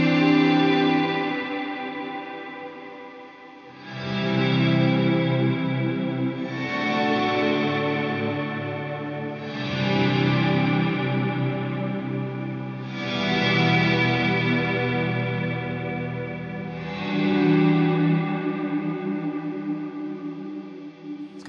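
Electric guitar through an Eventide Blackhole reverb pedal swells with soft, faded-in attacks, each chord blooming and washing into a long, ambient reverb tail, steady and alone with no voices.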